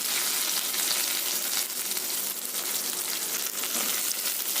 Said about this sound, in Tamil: நம்ம நறுக்கி வச்சுருக்கிறதெல்லாம் ஒன்று ஒன்றா போட்டு வதக்கிக்கலாம்.